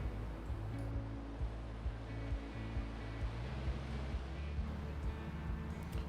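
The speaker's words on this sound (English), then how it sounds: "We're going to go down and look at Grizzly Creek, is what you see here, which runs into the Colorado River." Grizzly Creek, which runs into the Colorado River in the snowy Colorado Rocky Mountains, gives a steady, faint rush of flowing water, with soft low rumbles and occasional light knocks throughout and no voices.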